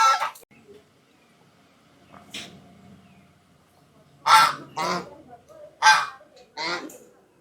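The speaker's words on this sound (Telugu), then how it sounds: "ఇవి ఖజానా బాతులు అంటారు కదా, ఖజానా బాతులు అండి. ఇది ఒక పెయిర్ ఉన్నాయన్నమాట." Pair of khajana ducks on a farm honking in loud, nasal bursts, one early call then a run of four honks close together after a quiet stretch, near the listener.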